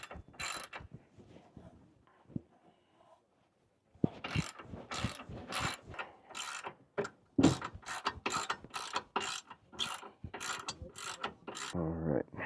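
A ratchet loosens bolts on the chassis bar of a sixth-generation Honda CR-V during a skid plate install, clicking in fast repeated bursts with short pauses between strokes, close and clear, no speech.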